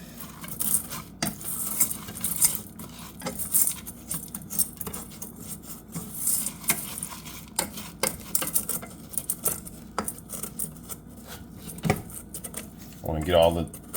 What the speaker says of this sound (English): I'm stirring it gently about every 20 seconds